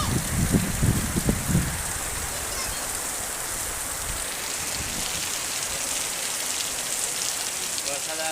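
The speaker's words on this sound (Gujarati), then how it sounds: "વરસાદ આ પહેલી વખત ભાઈ વધારે પડી રહ્યો છે" Heavy rain pours down in a steady, dense hiss at a rural home. A brief burst of talking and movement comes at the start, and after that the downpour continues on its own.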